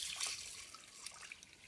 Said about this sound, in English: some water, which I'm going to dump in this bowl